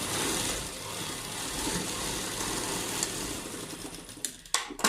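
Close up, a sewing machine runs in a continuous whirring drone while stitching a lined palazzo, then stops near the end, leaving a few sharp clicks and handling knocks.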